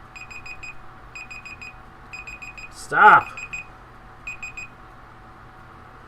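A phone alarm goes off in repeated bursts of bright electronic beeps, pausing between groups. A voice shouts once over it partway through.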